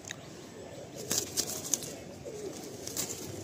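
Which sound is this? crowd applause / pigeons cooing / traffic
pigeons cooing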